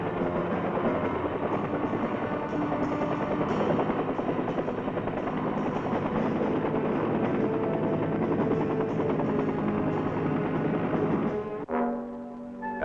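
A medical evacuation helicopter thrums loud and close with a steady rotor beat, cutting off abruptly near the end as the sound drops away.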